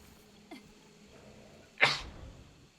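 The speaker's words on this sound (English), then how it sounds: "I think I might sneeze." A single sharp sneeze from a person bursts out loud and close, short and explosive, after a quiet stretch with a faint earlier sound and low background hum.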